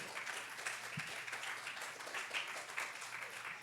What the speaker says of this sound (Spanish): Dele fuertes palmas al Señor.